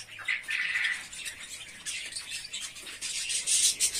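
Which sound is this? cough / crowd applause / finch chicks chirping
finch chicks chirping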